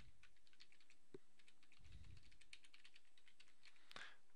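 Email address typed on a computer keyboard, a quick run of light key clicks in an uneven rhythm, close and quiet, with no voices.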